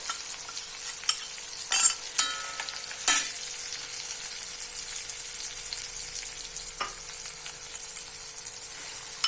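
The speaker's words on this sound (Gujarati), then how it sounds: "અને આ મસાલાને સારી રીતે પકવી લઈશું।" Masala paste frying in oil for a radish-leaf curry, a steady soft sizzle with occasional scraping stirs of a spoon against the pan, no talking.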